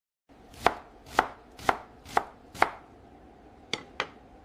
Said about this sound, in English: I cut the onions.